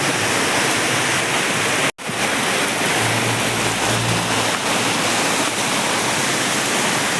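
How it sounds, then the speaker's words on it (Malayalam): Rainwater rushes beneath a culvert under NH 66 at Randathani, Malappuram, as a loud, steady torrent. It cuts out briefly, then resumes with a low engine hum, no voices. "ഈ വെള്ളം അങ്ങനെ താഴെ വരെ പോകുന്നു അതിലൂടെ"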